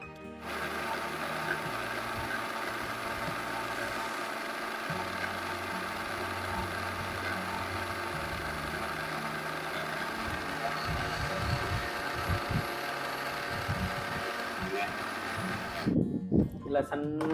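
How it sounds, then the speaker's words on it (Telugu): A kitchen mixer grinder whirs steadily as it grinds roasted coriander seeds, mustard seeds, sesame and fenugreek into a fine powder, a continuous motor drone that cuts off near the end with some clatter. "వీటిని మనం వేయించుకున్నాక మిక్సీ పట్టుకోవాలండి"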